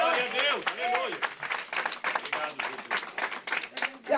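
Enthusiastic applause from a church congregation during an evening service, uneven bursts of clapping mixed with cheers and voices, loud and close with rising and falling intensity.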